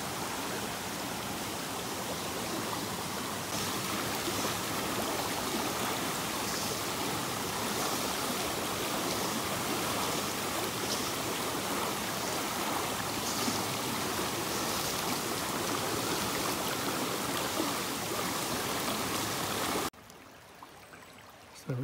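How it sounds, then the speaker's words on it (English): A narrow, fast-flowing, shallow river in Nishibetsu, Japan, rushes with a steady, dense roar of water close by that cuts off abruptly near the end. "The river's just changed a little bit in character here. It's quite a bit narrower, fast flowing, still not very deep."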